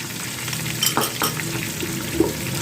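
Yogurt and ground masala being stirred in a hot frying pan over medium heat for chana aloo biryani, a moderate sizzle with a few spoon scrapes, close and steady.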